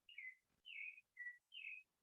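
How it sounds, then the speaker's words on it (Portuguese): Small birds chirp in the background, a series of four or five clear, high whistled tweets in a steady rhythm, faint and fairly distant, with no talk over them. "Esse barulho de passarinho de fundo é natural, né?"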